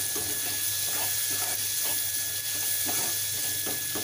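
Onions frying in a pan for egg bhurji give off a steady, close sizzle with soft crackles and pops throughout, no voices over it.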